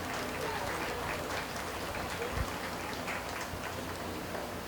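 Audience applause in a livestock show arena at a 4-H/FFA beef show at the Greenup County Fair, a steady, rain-like patter of many hands clapping that holds at an even level throughout.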